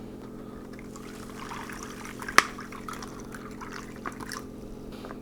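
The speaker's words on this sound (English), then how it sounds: "we simply add water to the fill line" Water poured into a Canadian IMP MRE drink pouch up to its fill line, a soft steady trickle over a constant low hum, with one sharp crinkle of the pouch midway.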